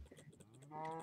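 A Minecraft cow in the Feed The Beast modpack gives a single drawn-out low moo, faint and short, rising into a fuller tone near the end.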